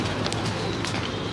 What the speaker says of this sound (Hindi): ये जी सारे मगर कबूतर हैं यहाँ।